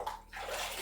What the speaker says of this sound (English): Let me wash my hands off real quick in this cold